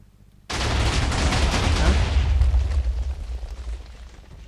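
Video game explosions from Minecraft's Titans mod roar in a loud, continuous barrage of overlapping blasts that go on for several seconds before tapering slightly, with no voices.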